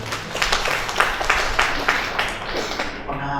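Audience applause at an official handover ceremony for the chair of the Nganjuk TP-PKK, a steady burst of clapping from a seated crowd that stays fairly loud for a few seconds before easing off.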